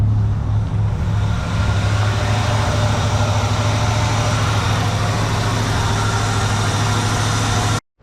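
An old truck with a carburetor engine idles steadily after an electric choke adjustment, a loud, even low rumble with a constant hum running without pause until it cuts off abruptly at the end.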